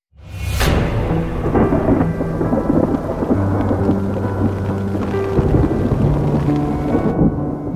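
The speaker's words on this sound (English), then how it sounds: "The rain lashed relentlessly down at the side of the mountain" Heavy rain pours steadily down a mountainside while deep thunder rumbles loudly throughout, a dense, continuous storm wash with no voices.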